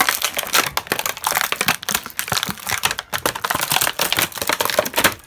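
Crinkling, tearing plastic and cardboard as a WWE Elite Kevin Owens action figure package, already partly torn, is pulled open by hand, with rapid close crackles and snaps in irregular bursts throughout.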